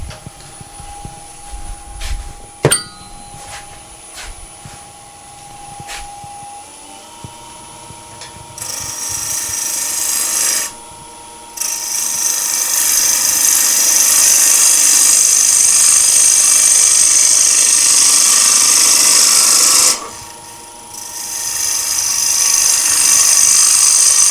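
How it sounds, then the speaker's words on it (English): A wood lathe spins up as a bowl blank is turned toward a cylinder, a rising motor whine followed by loud, rough cutting noise in long stretches with a short break between. "Lathe speed to 0, turn the machine on, and then you can come up your speeds."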